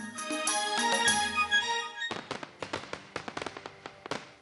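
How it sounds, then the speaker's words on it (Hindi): Firecrackers go off outdoors during celebrations: first a dense tonal, music-like stretch, then a rapid irregular string of sharp cracks and pops, close and loud, with no talking. "एक घंटे में सारे पटाखे चला के हमें वापस भी आ जाना है"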